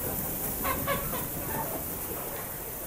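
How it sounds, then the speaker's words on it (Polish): Farm geese honk and cackle in an agitated burst of several calls near the start, set against a steady broad background hiss, moderately loud and with no talk. "Gęsi się denerwują."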